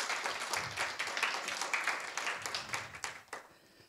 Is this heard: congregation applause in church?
yes